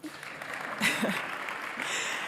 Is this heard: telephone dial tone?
no